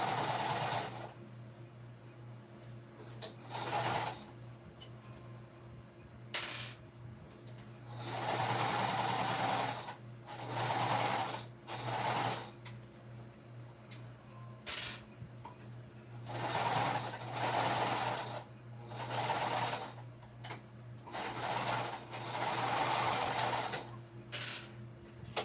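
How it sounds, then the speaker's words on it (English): A home sewing machine stitches up the side seam of a shoulder bag in several bursts of steady whirring, pausing briefly between runs, close and fairly loud over a low background hum. "so I just finished one side, sewed all the way up."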